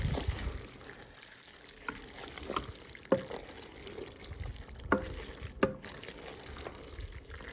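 Ham stroganoff garnished with parsley is stirred in a Ninja Foodi Deluxe pot, giving soft wet scraping and a few sharper spoon clinks over a low bubbling simmer.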